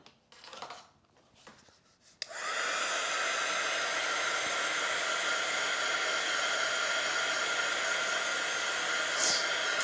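A hair dryer switched on to dry a watercolour painting on round watercolour paper, a few soft handling noises and clicks, then a loud, steady close blowing whir that runs uninterrupted to the end.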